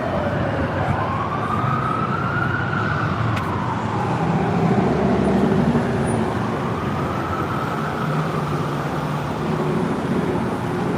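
A police siren wails on a New Orleans street, rising and falling in long, slow sweeps over steady traffic noise, fairly loud and continuous throughout.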